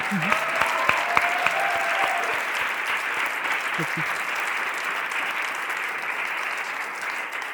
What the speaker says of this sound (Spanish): Un aplauso para mis malas madres.